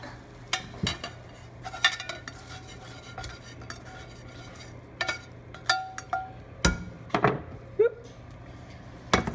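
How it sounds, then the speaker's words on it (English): Cooked eggs are scraped and lifted from a stainless steel pan onto a plate, giving scattered sharp metallic clinks and scrapes, several in quick clusters, close over a faint low hum with no talking. "I'm just going to throw these eggs on a plate for me since I'm one-handed."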